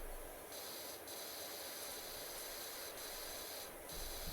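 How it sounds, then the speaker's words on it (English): Steady hissing spray of a pressure washer in the Powerwash Simulator video game, a continuous broadband rush with brief periodic dips, loud and uninterrupted with no talking. "Getting the middle of it is easy to just spray it down like this."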